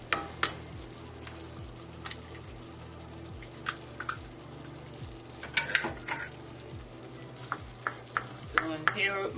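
Eggs dropped into a sizzling pan of shakshuka, a soft bubbling simmer under scattered sharp pops and clinks, close by, with a louder crackling burst near the end.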